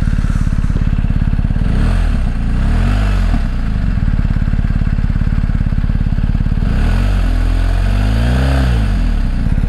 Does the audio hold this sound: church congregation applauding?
no